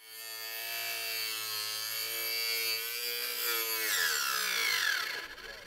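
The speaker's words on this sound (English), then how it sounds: "You can hear that the blade stopped when I pushed too hard, so it's not very powerful." A small, inexpensive Harbor Freight power saw cuts wood with a high, whining buzz that bogs down and slows near the end as the blade stalls under pressure, close and alone.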